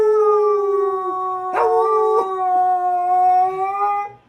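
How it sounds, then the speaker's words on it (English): Dog howling along in a long sustained tonal wail, with short yips and whimpers breaking in midway, loud and close before tapering off. "Who's a good singing dog?"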